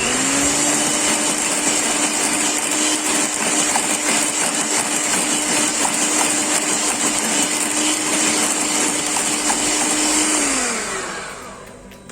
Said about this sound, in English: Take the remaining caster sugar and put the entire caster sugar into the mixture and whisk it again.